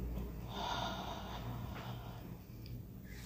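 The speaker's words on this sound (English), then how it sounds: "Breathe in. Breathe out." Slow, deep breathing in and out, a soft airy rush with a gentle rise and fall, faint and close, with no speech.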